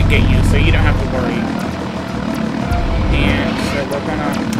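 A helicopter flies in the video game Body Harvest, its loud, steady engine and rotor drone filling the whole stretch, with brief higher whines on top.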